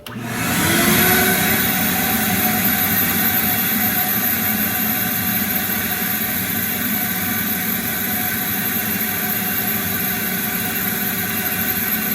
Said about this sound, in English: carburetor in the little sandblaster here